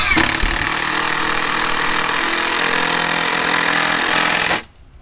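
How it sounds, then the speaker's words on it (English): An impact gun drives blue concrete bolts to anchor the frame of a wheelchair access ramp, a loud continuous rattling whir lasting several seconds before cutting off abruptly. "you just put them right in here with an impact gun"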